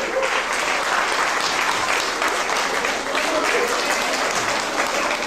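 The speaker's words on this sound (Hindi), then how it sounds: "ख़वातीन की टीम के लिए भरपूर तालियां बजाइए" An audience at a Pakistan independence celebration in a hall claps heartily for the women's team, a thick continuous wash of applause that stays strong from start to finish.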